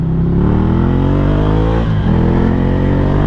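A Ducati 797 motorcycle with a Termignoni exhaust revs up with a deep exhaust roar, dips briefly as the rider shifts, then pulls hard again.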